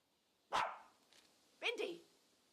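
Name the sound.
dog Bindi barking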